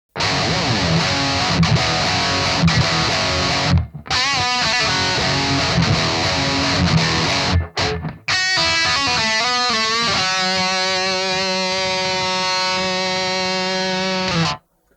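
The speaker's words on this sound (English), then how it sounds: "That sound is coming from the Positive Grid Spark Neo headphones." An electric guitar plays through Positive Grid Spark Neo headphones with a loud, distorted, effects-heavy tone: dense riffing, two brief dropouts, then sustained ringing chords and bends until it stops abruptly.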